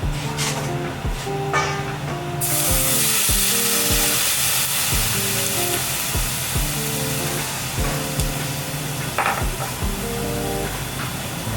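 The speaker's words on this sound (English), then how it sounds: "Bring it right back to the flame, and then we're going to add our Prosecco and our white wine." Prosecco and white wine hitting a hot risotto pan for lobster risotto, bursting into a loud, steady sizzling hiss that swells suddenly and continues strongly under faint rhythmic clinks or tapping.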